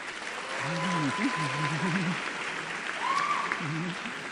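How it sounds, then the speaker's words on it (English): Soft, steady applause at a high school honors convocation, with voices talking over it near the start and again toward the end. "So give him a round of applause right there."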